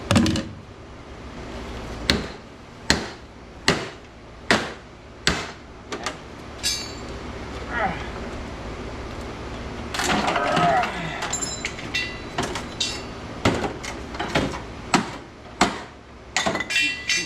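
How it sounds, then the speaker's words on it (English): A hammer strikes copper busbars from scrapped transformers in sharp, ringing blows, loud and close, spaced irregularly at first, then in a quicker run, with faint clinks between. "Let me get the old hammer out here."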